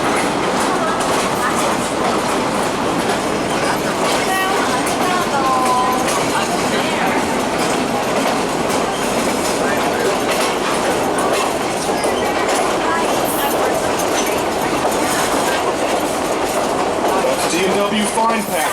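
Steady rumble and clickety-clack of a moving train heard from on board, continuous and fairly loud for the whole ride, with a voice speaking over the rail noise.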